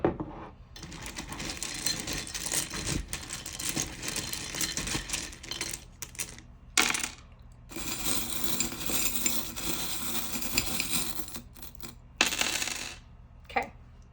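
Continuous clattering and clinking of small hard tiles and charms being poured and spread out, loud and busy, with brief pauses between bursts.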